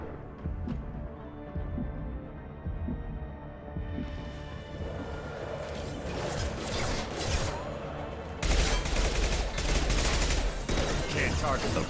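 Gunfire in a Mass Effect 2 firefight: rapid, loud bursts of shots and crackling impacts, growing denser and heavier toward the end, with combat chatter mixed in.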